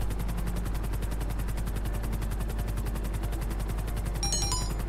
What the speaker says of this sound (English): I don't even care about this helicopter.